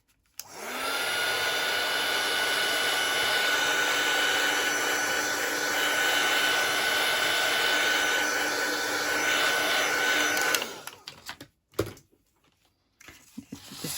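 A heat tool blasts steadily for about ten seconds to dry alcohol ink on cardstock, a loud continuous whooshing roar that cuts off abruptly, leaving brief faint handling sounds afterward.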